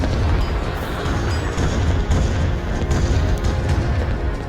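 Artillery fires in a Qing dynasty strategy video game, producing dense, loud rumbling booms that blend into a continuous roar of battle with no pauses.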